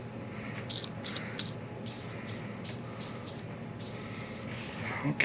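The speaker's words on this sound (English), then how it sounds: "So we'll spray this a little bit more." Spray lubricant can hissing onto parts of an 84 Toyota Tercel 4WD wagon in a garage, several short close bursts in an uneven rhythm over a steady background hum.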